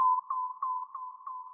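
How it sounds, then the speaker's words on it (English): A kick drum sample shifted far up in frequency, filtered and run through delay, forming a steady, thin ringing tone that pulses with a few repeating echoes, heard alone for under two seconds. "This is a kick drum that I frequency shifted really high and then filtered and threw some delay on"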